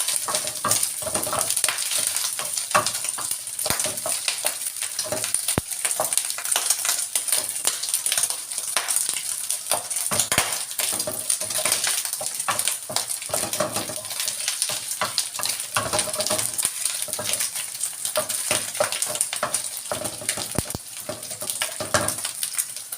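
Meat browns and fries in a pan for dinuguan, a dense, steady sizzle with frequent scraping stirs and occasional clinks, loud and continuous with no talking.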